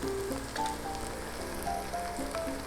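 Garlic fries in a pan as curry sauce is added, giving a quiet, steady sizzle with faint crackles and pops. There is no talking.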